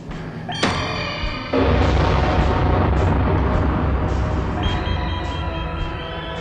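A large explosion detonates in a quarry in a classic Doctor Who scene, a sudden heavy boom that swells into a loud, sustained rumbling roar with debris-like crackle continuing for several seconds.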